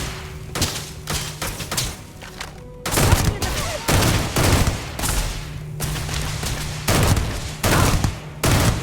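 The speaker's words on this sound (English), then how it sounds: "Cover fire!" Repeated gunfire bursts and heavy thuds from a firefight in the sci-fi game Starfield, loud and close, with salvos going on and off across the whole stretch and a steady low hum underneath.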